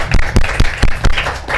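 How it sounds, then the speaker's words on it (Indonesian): Students in a class XI casual discussion session clap for the presenters, a few loud, rhythmic group claps landing in a steady beat, close and distinct, then trailing into softer scattered clapping. "Ketong tepuk tangan dulu untuk kami."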